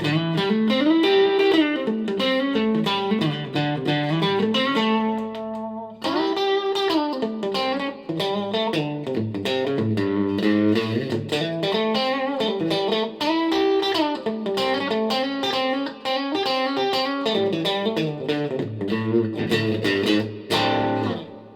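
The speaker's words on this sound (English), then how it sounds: "Okay, so that's just like a crunchy sound." Electric guitar played through a Yamaha THR10 amp on a crunchy, slightly overdriven setting, strummed chords and single-note runs sustaining steadily for the whole stretch with one brief pause, loud and close, no talking.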